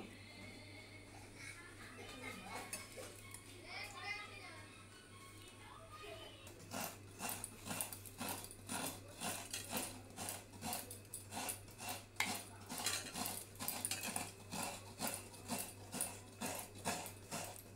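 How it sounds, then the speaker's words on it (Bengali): Grated mankochu (giant taro root) with chilli, salt and chopped onion is ground by hand on a shil nora grinding stone for a coconut mankochu bata. Someone talks first, then steady rhythmic scraping strokes of stone on stone repeat up close. "আমি এখানে শিলনোড়াও নিয়ে নিয়েছি। আমি এবার এটাকে বেটে নেব।"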